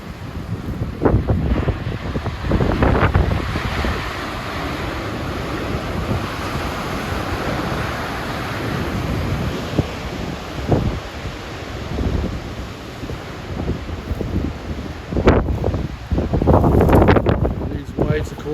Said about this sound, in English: did you see how big those waves were hitting the seawall?